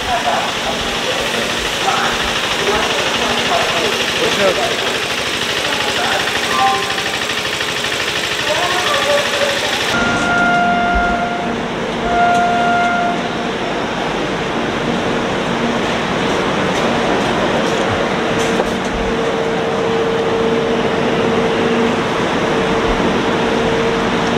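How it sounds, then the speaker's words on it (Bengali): The Kolkata Express (13152) stands at Asansol station, giving off a steady engine and air-conditioning hum amid platform bustle, with people talking throughout. "এই যে ট্রেন চলে এসছে আসানসোল স্টেশনে"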